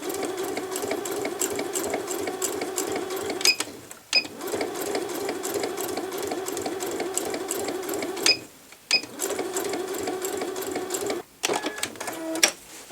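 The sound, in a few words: sewing machine stitching fabric placemat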